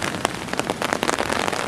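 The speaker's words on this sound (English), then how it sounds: "it's been raining probably since the early hours of this morning" Steady rain patters densely on a hard surface up close, with individual drops tapping through the continuous hiss.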